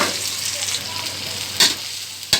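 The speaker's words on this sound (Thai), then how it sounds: "ตั้งกระทะใส่น้ำมันน้ำมันร้อนแล้วก็ใส่เครื่องที่เราตำลงไป พัดให้มันหอมๆสักหน่อยนะครับ" Pounded Thai spice paste sizzling and frying in hot oil in a wok, a steady broadband hiss with two short louder bursts as it is stirred, fairly close.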